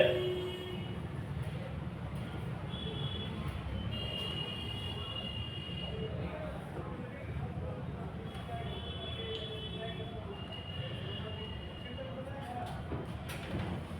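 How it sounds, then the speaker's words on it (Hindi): A diesel train rumbles steadily along the tracks with a low, continuous roar and occasional high wheel squeals. "डीजल इंजन से गाड़ी चलने लगी।"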